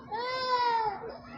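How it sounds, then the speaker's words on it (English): A little child cries in the background during an outdoor walking tour on Portobello Road, Notting Hill, London, one drawn-out wailing cry that rises and fades over about a second. "You might be able to hear a little child crying in the background."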